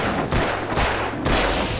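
Revolver shots fired in the video game Alan Wake ring out as three loud blasts about half a second apart, each with a broad, booming tail over steady game background noise.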